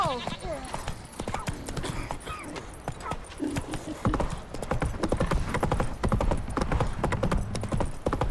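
Roach, the horse in The Witcher 3, gallops hard and close. Its rapid, pounding hoofbeats grow louder partway through, a whinny comes near the start, and voices talk over the running.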